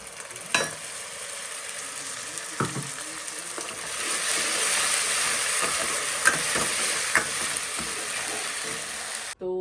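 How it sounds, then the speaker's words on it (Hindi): Onions frying in a pan with masala just added, giving a steady close sizzle with scattered stirring scrapes and clicks and no talk, ending with a brief bump. "यहाँ पे मेरा मैंने प्याज रखा हुआ है भूनने के लिए"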